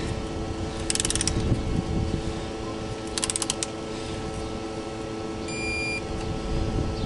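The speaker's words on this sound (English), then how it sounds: "We got the torque wrench set to 10 newton meters." A torque wrench clicks in short ratcheting bursts as it tightens oil pump bolts on a 1.6 diesel engine, with two quick clusters of clicks over a steady background hum.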